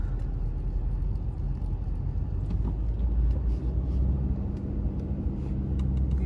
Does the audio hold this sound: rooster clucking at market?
no